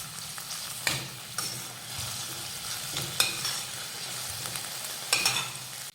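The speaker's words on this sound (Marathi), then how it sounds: "थोडीशी बारीक चिरलेली कोथिंबीर घालूयात आणि कांद्यासोबत परतून घेऊयात" Onion with finely chopped coriander sautéed in a pan over medium-low heat, a steady soft sizzle broken by a few scraping stir strokes, close and without talk.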